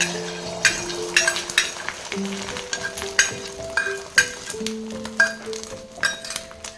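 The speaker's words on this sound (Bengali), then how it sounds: "এবার আমি তেলের উপরে দিয়ে দেব।" Beaten egg spiced with turmeric and chili powder sizzles in hot oil for an egg roll, a continuous close fizz over repeated bright metallic clinks and pings of a utensil against the pan.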